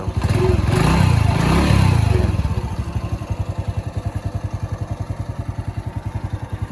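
A 2020 Ryuka Classic 110cc motorcycle engine revs loudly up close, then drops back to a steady, rhythmic idle.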